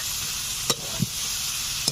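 Spices and chicken being sautéed in a kadai for a village-style curry produce a steady, moderate sizzle, with about three short stirring knocks of the spoon against the pan.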